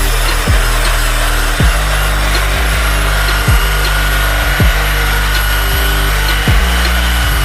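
A flannel buffing wheel spinning at 1,400 RPM with Blue Moon compound polishes metal, a loud constant motor hum and rushing hiss broken by regular low thumps as the piece is pressed and repositioned.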